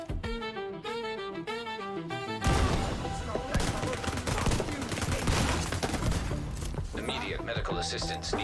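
A musical intro gives way to rapid, continuous gunfire and bursts of shooting in the video game The Division 2, dense and loud, with game sounds and voices mixed in.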